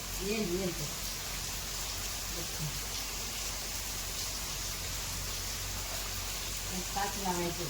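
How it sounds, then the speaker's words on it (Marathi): Steady rain falling outdoors during the first monsoon rain, a constant hiss of drops on surfaces throughout, with a few faint voices and sounds in the background. "आता पाऊस चालू आहे"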